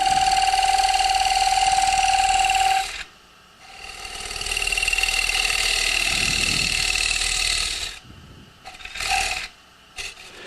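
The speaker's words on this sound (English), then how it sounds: "So we'll turn the lathe up fairly fast for this part." A wood lathe spins fast while a tool rubs and rasps against a turning wooden rosette, a loud steady whine with broad scraping noise, stopping abruptly, then starting again, followed by short bursts and gaps.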